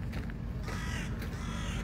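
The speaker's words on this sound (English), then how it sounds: "I hear the bird." A crow caws on a hiking trail near Athens, Greece. A few harsh, fairly close calls stand out over a soft outdoor background, with no voices.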